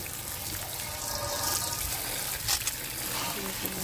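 About two kilos of food are washed under running water, with a steady close splash and gush of tap water filling the whole stretch, a few louder splashes standing out.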